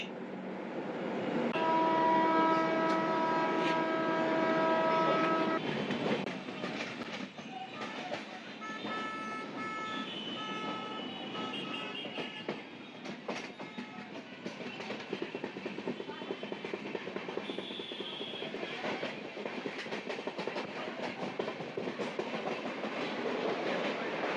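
Kanchankanya Express train running from Sealdah toward New Mal Junction near Dakshineswar: steady rolling rumble and clickety-clack of wheels on rails, with a horn-like tone early on and brief high squeals, heard from inside the moving train.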